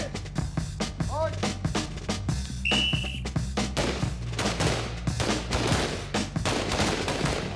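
A SWAT team fires at a shooting range in rapid volleys of close, loud gunshots that overlap into fusillades, with a short whistle partway through.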